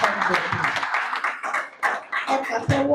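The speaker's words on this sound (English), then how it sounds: "Can we put a round of applause" Audience applause at a Day 2 event, scattered claps with mixed voices and chatter throughout, moderately loud and close.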